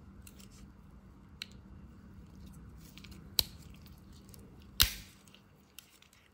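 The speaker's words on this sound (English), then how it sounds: "you would actually have to close the inline Phillips screwdriver and then the scissors" A Victorinox 111mm pocket knife has its inline Phillips screwdriver and scissors folded shut, two sharp metallic snaps standing out against a quiet background with faint small clicks between.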